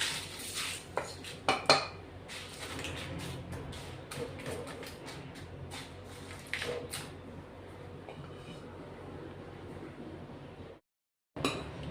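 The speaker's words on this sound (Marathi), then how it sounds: "मिरच्या खडे मसाले बडीशेप जिरे हेही आपण आता या मसाल्यात ओतून घेतोय" Roasted red chillies, whole spices, fennel and cumin tipped into a masala mix, giving clattering rattles and metallic clinks of utensils up close that are louder early on and then settle into a quieter rustle.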